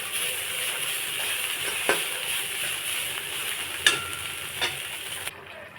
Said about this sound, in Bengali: চিংড়িটা ভাজা হয়ে গেছে, এখন নামিয়ে নেব